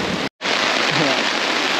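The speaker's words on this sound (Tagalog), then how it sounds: "Sobrang lakas ng ulan bigla." Heavy rain pours steadily onto a campsite canopy in Magdalena, Laguna, a loud, dense hiss that fills the whole clip, broken only by a brief gap near the start.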